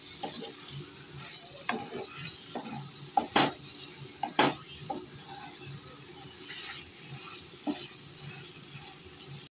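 Mutton liver sautéed and stirred in a pan for a Bengali dish, with a soft, steady sizzle and scattered spatula scrapes and taps, a couple sharper knocks midway.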